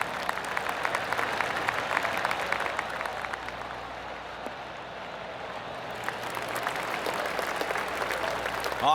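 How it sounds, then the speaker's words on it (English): Golf gallery applause ripples around the course in a PGA Tour video game, a steady, sustained spread of many hands clapping that swells slightly near the end. "I can hear the golf claps around the course"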